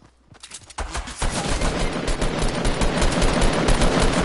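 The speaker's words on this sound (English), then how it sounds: "Someone's shooting at me." Rapid gunfire in the video game Fortnite starts after a short quiet lead-in and builds into a loud, continuous automatic burst that keeps going to the end.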